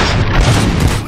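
Gunfire in the RoboCop: Rogue City video game, a loud burst of booming shots that blend into a dense, continuous barrage over about a second.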